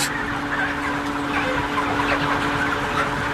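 Chickens crowded in an automated intensive farming shed make dense, overlapping clucks and calls without pause, over a steady low mechanical hum.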